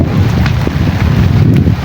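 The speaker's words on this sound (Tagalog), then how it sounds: "Yan, inabot na kami ng ulan." Heavy rain driven by wind, a dense steady roar with gusty buffeting on the microphone, loud and continuous throughout with no voices.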